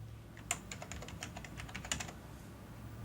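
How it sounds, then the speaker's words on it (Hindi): Quick, irregular keystrokes on a computer keyboard click away in close succession, soft and near, with a couple of sharper key hits, against a low steady room hum. "इसको टाइपिंग कीजिए।"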